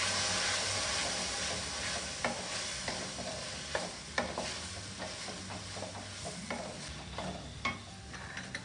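Red chili sauce and soy sauce being stirred in a hot pan for honey chili potatoes: a steady sizzle with repeated scraping spatula strokes, close and alone without talk.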